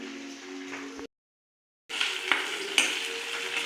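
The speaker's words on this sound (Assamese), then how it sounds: "এইফালে পিঁয়াজ আৰু আদা নহৰু ফ্ৰাই কৰি আছে।" Onion, ginger and garlic fry in a hot pan with a steady broadband sizzle, cut by a brief silence, then resume louder with a couple of sharp stirring clacks.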